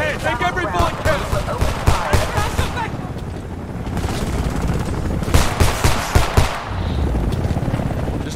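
Rapid gunfire from the Homefront video game on PC, bursts of automatic weapon fire crackling continuously across the clip, loud and close, mixed with shouted game dialogue and combat noise.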